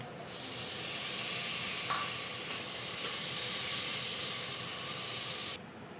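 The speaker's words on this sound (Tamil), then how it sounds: "தக்காளியை சேர்த்து வதக்கிக்கலாம்." Chopped tomatoes sautéing in a pan for chicken biryani, a steady broadband sizzle and hiss held at an even level, with one brief utensil clink partway through and no voices.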